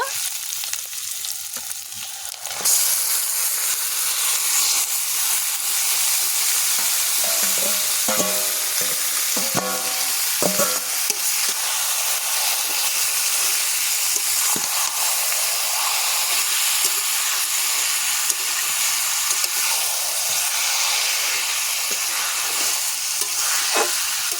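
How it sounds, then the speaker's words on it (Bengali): Marinated mutton drops into a pan of fried onion, ginger and garlic and sizzles loudly and steadily, with a few scraping stirs early on and a constant hiss throughout, no voices. "এবারে ম্যারিনেট করা মাংসগুলো দিয়ে দেব।"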